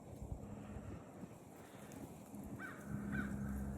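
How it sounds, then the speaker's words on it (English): Birds on a wooded nature trail give a few harsh caw-like calls at a distance, faint against outdoor wind noise and low rumble. "The birds are out."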